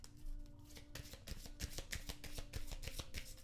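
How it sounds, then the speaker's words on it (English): Oracle cards being shuffled by hand in repeated rapid riffling bursts, with crisp papery slaps and rustles in an irregular rhythm, close up and fairly quiet, with no talking. "I have some very direct oracle cards here that I'm just gonna shuffle on camera."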